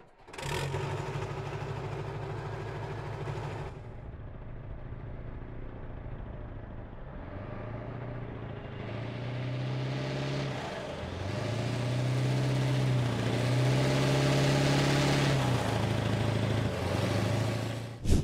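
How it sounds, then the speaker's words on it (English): A Warrior armoured vehicle engine from Squad idles with a low rumble, then revs up in several rising surges and holds a loud, continuous drone close by, with no talk over it. "you're going to have basically the same engine sound. But here's a listen to the Warrior"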